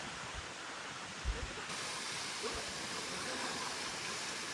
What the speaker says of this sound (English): Get the falls too, the waterfalls.